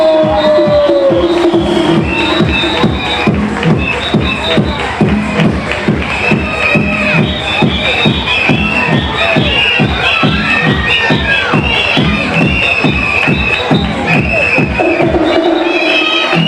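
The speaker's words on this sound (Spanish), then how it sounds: "¡Vamos a este aplauso!" A carnival crowd at an Antroido celebration applauds a scarecrow group winning a special jury prize, with loud, steady rhythmic clapping, cheering and shouting voices throughout.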